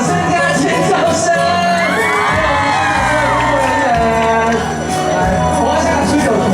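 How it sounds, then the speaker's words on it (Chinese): A large outdoor crowd at a temple celebration concert cheers, screams and applauds continuously and loudly, with a sung or amplified voice riding over the roar. "给我们3员工热情的掌声加尖叫声"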